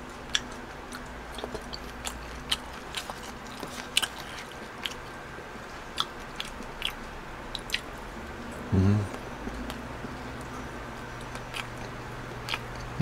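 Close, quiet eating of a convenience-store lunch box of eel and shrimp: soft wet chewing with scattered crisp bites and clicks, plus one louder brief thump midway.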